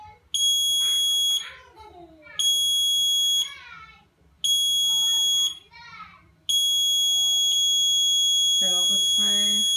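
Loud electronic buzzer from a wireless countdown timer on a P10 LED panel, sounding in four long steady piercing tones with short gaps, while children and other voices chatter underneath.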